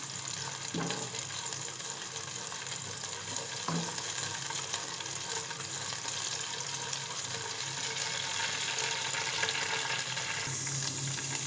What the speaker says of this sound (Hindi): अब इसको ऑयल में अच्छी तरह अदरक लहसुन के पेस्ट को सोटे करेंगे हम।